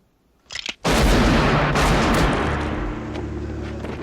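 Gunshots from the 1976 Western film The Outlaw Josey Wales: a short pop, then a loud blast whose heavy rumble lingers and slowly fades over several seconds.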